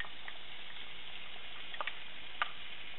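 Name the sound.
chopped onions sautéing in a pan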